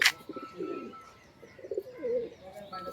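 High-flyer tournament pigeons coo close by in a series of soft, throaty, rolling calls, with a sharp brief chirp at the start and quiet background noise throughout.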